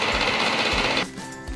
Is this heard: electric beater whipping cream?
yes